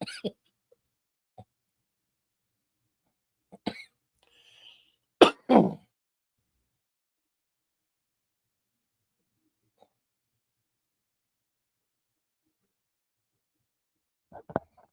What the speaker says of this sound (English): Pardon the cough.